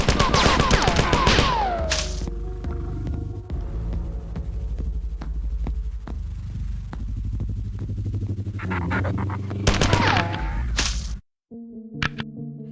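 Video game gunfire in a Bungie game, with dense rapid bursts of shots, a brief pause, then more firing before a sudden cutout, loud and close.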